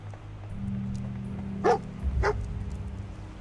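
Dogmeat, the German Shepherd-style companion dog in the Fallout 4 video game, gives two sharp barks about half a second apart over a steady low game-ambience hum.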